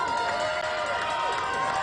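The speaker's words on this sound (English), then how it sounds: "I just heard a roar of the crowd" A stadium crowd at the College World Series roars in a sustained wash of noise as the national champion Mississippi State Bulldogs take the field, with a commentator's voice carrying over the steady din.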